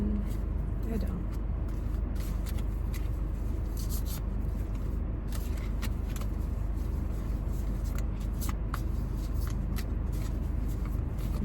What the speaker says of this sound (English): These cards are really interesting to shuffle for me because they're pretty big